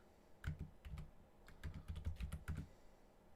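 Typing on a computer keyboard, a burst of quick clicky keystrokes in two clusters with a short pause between, close and fairly quiet, no voices.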